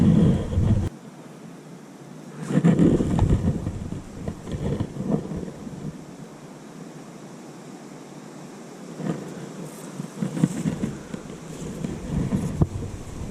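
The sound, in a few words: wind blowing at a fishing swim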